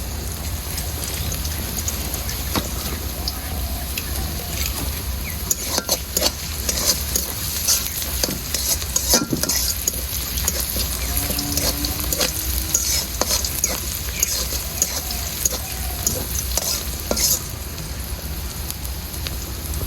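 Onions are stirred and fried in a pan for a beef tongue bhuna, with a constant loud sizzle broken by scattered scraping clicks of the stirring utensil.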